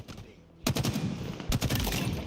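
Rapid bursts of automatic gunfire from a video game, two loud volleys separated by a brief pause, with dense rattling shots.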